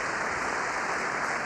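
A large crowd of members of Congress applauds Benjamin Netanyahu's speech, a dense, steady wash of clapping that fills the hall at moderate loudness, with no voices on top.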